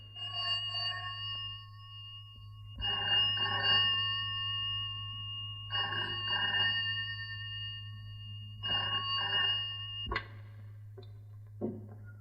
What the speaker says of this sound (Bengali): এখন আবার ফোন করে কে?